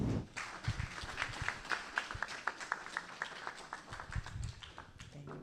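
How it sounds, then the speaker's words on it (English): Audience applause at a rainwater harvesting consultation, faint and fairly distant, a steady patter of scattered clapping lasting several seconds. "I think Ms. Joseph deserves a bigger hand of applause"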